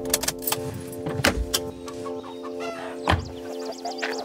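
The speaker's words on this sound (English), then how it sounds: "Chickens run wild in the yard." Chickens in a yard by a small house with a gravel driveway, clucking in short bursts near and loud, with a car idling and a few sharp sounds in between.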